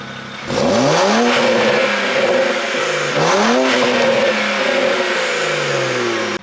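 Revving of a BMW 335xi engine fitted with a blow-off valve, two strong climbing revs, each followed by a hissing vent as the throttle drops, then a settling idle, loud and near.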